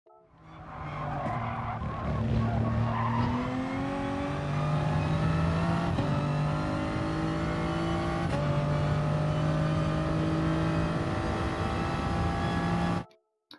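A GR3 race car in GT Sport accelerates out of a corner onto a long straight at Autodrome Lago Maggiore, engine climbing through rising gear pitches with brief tire squeal, loud and continuous, no talk.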